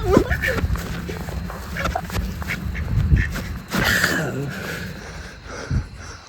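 A duck quacks in short raspy bursts close by, mixed with rustling movement and footsteps while people talk over it.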